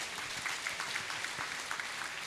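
An audience at a motivational session breaks into dense, continuous clapping, a brief steady burst of many hands.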